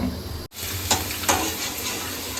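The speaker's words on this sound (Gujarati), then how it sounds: "મસ્ત મજાના ભૂંગળા તળાઈ રહ્યા છે, કલર વાળા" Colourful bhungla snacks deep frying in oil at home: a continuous, fairly loud bubbling sizzle close by, with a brief dropout early on and a couple of louder crackling spurts.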